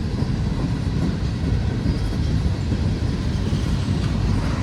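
A long freight train of empty former Amtrak boxcars rolls past close by, a steady loud rumble with rattling wheel noise and no pauses.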